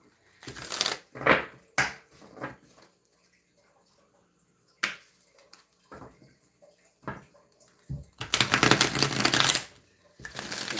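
Bursts of cards being shuffled and riffled, several quick rustling flurries separated by pauses, with a longer loud riffle near the end.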